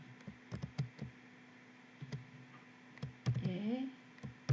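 Keys are typed on a computer keyboard with the Shift key held down, a quiet, irregular series of clicks and taps with a faint tone in the background.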